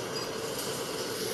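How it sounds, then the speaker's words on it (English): Rumbling train noise from the video game Poppy Playtime Chapter 1, a steady broadband roar of rolling rail cars that holds at an even, moderate loudness with no talking. "It's just the train."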